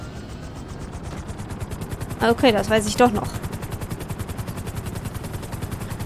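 Helicopter in the video game GTA V, a steady rhythmic rotor chop running throughout under a brief stretch of speech.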